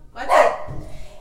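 A single dog bark rings out close by indoors, a short sharp burst with a person's voice faintly present around it.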